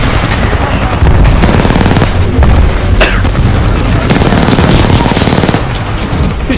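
Rapid gunfire and booming blasts ring out during a fast match of the video game Attrition. The shots are loud, dense and continuous, with a faint voice in the background.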